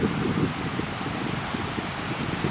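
Steady outdoor wind buffeting the microphone, a continuous low rumble with gusty fluctuations and no voices.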